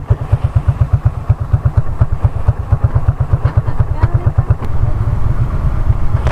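Yamaha NMAX V2 motorcycle engine chugging with a rapid, regular putter, revving slightly as it rides along, loud and close throughout.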